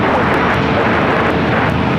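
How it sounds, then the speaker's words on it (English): An Asiana Airlines A380 airliner arriving from Seoul at LAX, a loud, steady, broadband jet roar that fills the whole moment without a break. "Asiana Airlines 204 coming in from Seoul."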